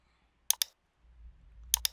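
Two quick double clicks of a computer mouse while working in CallTools software, close and crisp, separated by a short pause with faint low hum.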